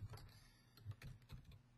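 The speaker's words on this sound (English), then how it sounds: "what you want to do is just type in" Someone types a web address on a computer keyboard: a short run of quiet, close key taps in an uneven rhythm, with no talk.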